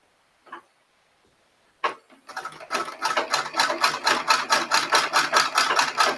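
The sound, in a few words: sewing machine stitching fabric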